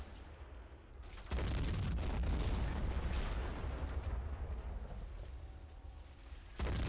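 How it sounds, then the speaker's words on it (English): Artillery guns fire repeatedly in a WWI video game set at the 1918 Battle of Kiev, a dense continuous barrage of booms and explosions that swells suddenly and stays loud, with another heavy blast near the end. "The rate of fire on this gun is insane."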